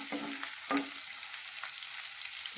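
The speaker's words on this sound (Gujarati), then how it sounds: "આપણે શાકને વઘારને સારી રીતે સાંતળીશું લસણ" Garlic sautéing in hot oil for an okra curry on a medium flame, with a soft, steady sizzle and a couple of brief clinks from a spoon against the pan.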